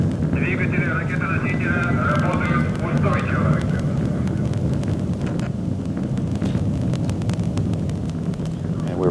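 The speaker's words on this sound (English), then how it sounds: "the rocket does a roll maneuver and will soon experience maximum dynamic pressure, or max-Q" The AsiaSat 5 launch rocket roars during ascent as a continuous, dense low rumble with wind buffeting throughout and a voice talking over it.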